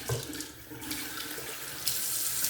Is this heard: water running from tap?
yes